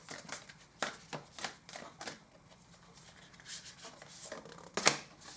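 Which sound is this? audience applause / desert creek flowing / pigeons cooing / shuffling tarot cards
shuffling tarot cards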